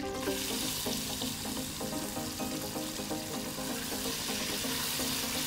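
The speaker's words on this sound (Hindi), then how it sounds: "इसको तकरीबन 4-5 मिनट तक हम फ्राई करेंगे हल्का सा।" Pieces of taro root (arvi) fry in hot ghee, a dense, steady crackling sizzle heard close up with no talking.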